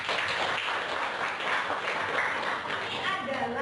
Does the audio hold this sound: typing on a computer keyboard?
no